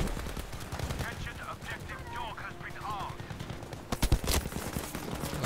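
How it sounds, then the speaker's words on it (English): Rapid gunfire crackles through a Battlefield V match, with dense bursts of rifle and machine-gun shots, some near and loud, others distant, while a voice talks over the battle. "I'm shooting where those bullets are coming from, not even a suppress."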